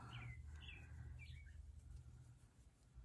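Birds chirp and call outside a window, a few short bright tweets in the first second and a half over a steady low indoor hum, fairly faint and without talk.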